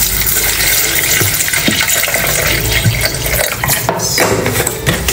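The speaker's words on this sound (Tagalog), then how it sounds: "lagyan natin siya ng water" Water pours steadily into a blender container of fresh fruit juice ingredients, a continuous loud gushing splash with a few brief knocks, no talking.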